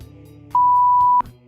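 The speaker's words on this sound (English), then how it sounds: "I just like I cover up my sneezes with beeping" A single sharp, steady electronic beep lasting a little over half a second cuts over a low background hum, then stops abruptly.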